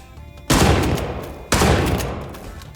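Two sharp, loud bursts of gunfire ring out in Hitman Freelancer, about a second apart, each with a long fading tail.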